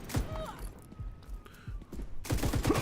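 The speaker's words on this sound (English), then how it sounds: "Laying down cover fire!" Video game gunfire laying down cover fire: several sharp thumping shots in quick bursts at the start and again at the end, with game sound effects in between, heard close and loud.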